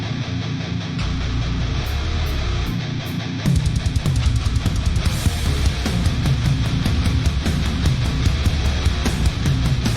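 A metal song plays loud and dense, with pounding drums and distorted guitars that grow heavier and more driving after a few seconds.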